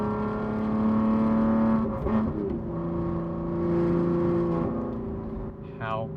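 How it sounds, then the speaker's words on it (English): A car's exhaust with the valve open in Sport Plus mode roars steadily as the engine pulls, a loud droning growl that swells and eases, while a person speaks over it. "Just pure exhaust."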